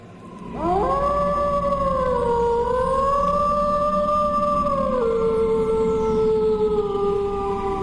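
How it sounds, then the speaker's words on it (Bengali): Several jackals howl together in a long, loud, wavering chorus that rises, holds and then drops in pitch, set as an eerie night effect in a village ghost story, with no talking. "অন্ধকারের বুক ছিঁড়ে ভেসে এলো কয়েকটি শেয়ালের ডাক"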